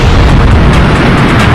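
A comet airburst explosion over the North American landscape, a loud, close, continuous roar of deep rumbling boom that fills the short stretch without pause.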